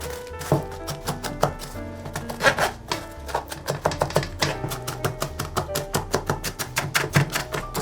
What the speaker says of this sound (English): since we don't have a grater, we're going to use a strainer